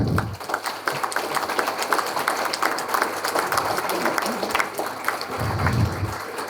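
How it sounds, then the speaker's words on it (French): An audience at a New Year's wishes ceremony in a town hall applauds the municipal staff, a continuous patter of clapping hands from a moderate-sized crowd, with a brief low voice near the end. "Je crois que vous pouvez tous les applaudir, ils le méritent bien"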